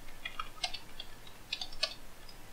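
Typing on a computer keyboard while entering a text prompt in a digital painting program, heard as a quiet run of light, uneven key clicks in bursts, close and alone.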